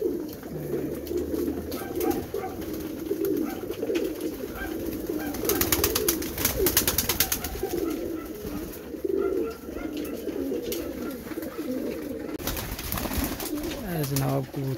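Pigeons coo with low, throaty, repeated calls from a big pigeon and others at sunset, close and fairly clear, with some chirps, rustling and background noise mixed in.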